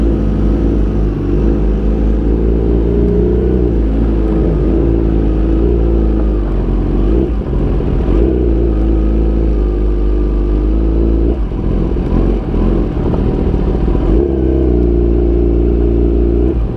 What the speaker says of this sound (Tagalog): Grabe, ang astig ng mga motor nila.